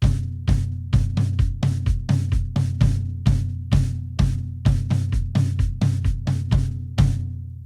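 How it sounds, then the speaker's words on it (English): Tom-tom hits played in unison over a steady four-on-the-floor bass drum in a worship drum groove, close, loud and evenly repeating, with a few sustained low-ringing accents and no talk. "add that bass drum 4 on the floor underneath"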